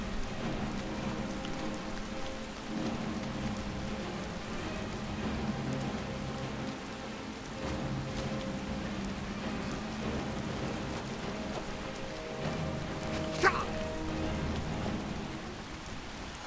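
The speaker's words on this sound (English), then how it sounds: "Can't see him with all this rain." Steady rain pours down in a continuous hiss in the video game Skyrim, with a brief sharp crackle partway through, no voices over it.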